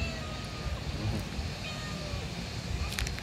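Cats meow at an outdoor eatery overlooking the Mediterranean in Antalya, Turkey, with a few faint, scattered calls in a steady wash of ambient background noise.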